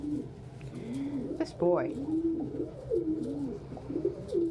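Pet pigeons or doves coo in soft, low, repeated rolling calls close by during a breakfast setting, with a brief higher chirp partway through and a person talking quietly over them.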